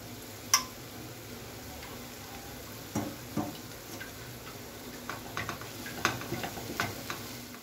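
Chow mein noodles with vegetables, chilli flakes and sauces being stirred and mixed in a pan: a soft sizzle under scattered scraping and clicking utensil strokes, with a sharper knock near the start and irregular taps later.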